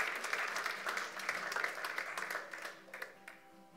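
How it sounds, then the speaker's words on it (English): A church congregation gives a round of hand claps in a Sunday service, a brief burst of mixed clapping that is moderately loud and then thins out into a few scattered claps. "I think that deserves a hand clap, don't you?"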